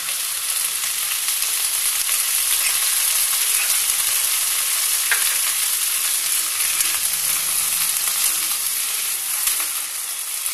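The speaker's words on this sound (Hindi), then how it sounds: "हल्का सा भून जाए जब इसमें ये कॉर्न डाल दीजिए, बॉइल्ड कॉर्न" Boiled corn frying with vegetables in a pan for a corn and mushroom mixed-veg dish, giving a steady, dense sizzle that holds evenly at close range throughout with no voices.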